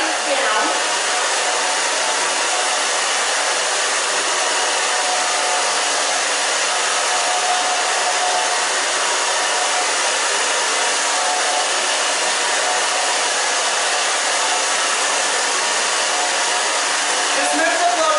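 A hair dryer blows steadily and loudly for the whole stretch, a constant close whooshing hum with no pauses.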